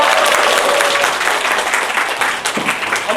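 Loud, dense applause from a seated audience welcoming a speaker at an indoor lecture event, a continuous wash of many hands clapping close around.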